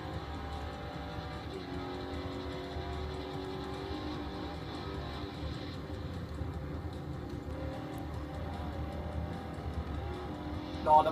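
A car engine in the racing game Forza Horizon 4 drones steadily at moderate loudness for about eleven seconds, with shifting engine tones and a brief louder burst at the very end.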